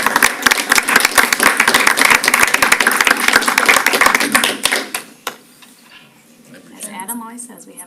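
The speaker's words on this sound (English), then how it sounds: "we really should give Eric a round of applause" A room of people at a school board of education meeting breaks into a round of applause, dense close clapping for about five seconds that stops abruptly, followed by quiet and then voices speaking.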